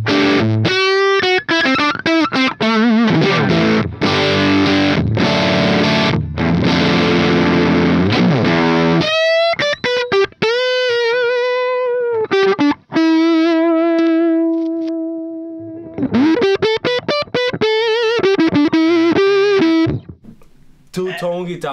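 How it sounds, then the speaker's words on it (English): A cranked Marshall Origin 20 amp drives a high-gain electric guitar, loud and close, with distorted chugging riffs, fast runs and a few held notes that ring out between short pauses. "It's an interesting high gain sound."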